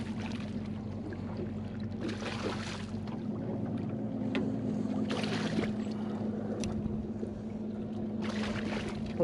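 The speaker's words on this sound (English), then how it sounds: "We're gonna have to start the boat up here." A fishing boat's outboard motor runs steadily on open water, a continuous low drone with water splashing and lapping over it, close and fairly loud throughout.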